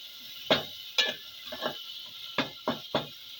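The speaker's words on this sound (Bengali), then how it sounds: "তারপরে একটু নাড়বো" Duck meat curry with a pinch of turmeric being stirred in a pot, heard as about seven distinct knocks and scrapes of a spoon against the pot at uneven intervals over a faint sizzle, with no talking.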